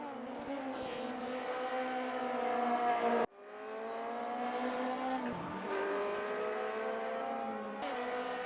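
Race cars in a racing video game at Moscow Raceway, engines droning loud and steady with shifting harmonic pitch, a sharp gear cut near the middle, then revs climbing again with a brief clipped change toward the end.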